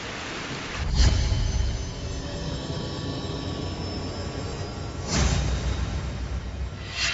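Heavy rain pours steadily in a drama scene, with two deep booming thunder rolls breaking through near the start and again toward the end.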